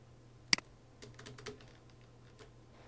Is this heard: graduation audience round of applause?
no